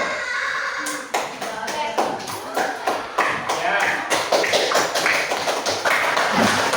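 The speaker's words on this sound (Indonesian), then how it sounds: "Tepuk tangan untuk kelompok 1." Elementary school classroom applause for a presenting group of pupils: scattered, uneven claps and taps build into steady clapping, with voices talking throughout.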